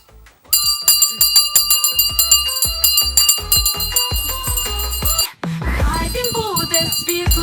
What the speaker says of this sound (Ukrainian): Золотий дзвоник сьогодні лунає для батьків, вчителів і дітей.